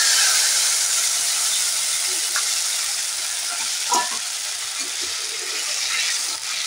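Gandal leaf paste with cumin and fennel seeds fries in hot oil, giving a steady, close broadband sizzle that runs throughout, with a few faint stirring scrapes and no talking.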